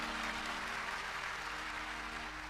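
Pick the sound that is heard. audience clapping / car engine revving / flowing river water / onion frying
audience clapping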